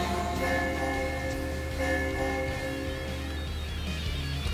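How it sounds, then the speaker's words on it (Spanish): A bell chimes within the busy, steady music of Super Mario 3D World, its tone ringing out over the game's layered soundtrack for several seconds. "Ahí está la campana."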